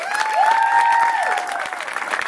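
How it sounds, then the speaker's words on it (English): An audience gives a short round of applause for a performer costumed as a pirate at a comedic mock peasants' trial, steady clapping with a sustained tonal hum running over it. "Big round of applause for the pirate."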